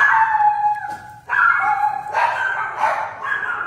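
Several dogs howl and bark excitedly in a home kitchen during cooking, with sustained wavering howls broken by sharper barks, loud and close throughout.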